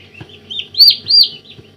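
Young black turkey poults, newly hatched, peeping up close, two loud high-pitched rising chirps standing out over softer cheeping and faint ticking in the background.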